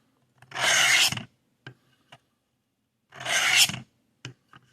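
A blade being drawn across a coarse stone on a Work Sharp guided sharpening system gives two long rasping strokes, each followed by light taps, close and clear with no talking.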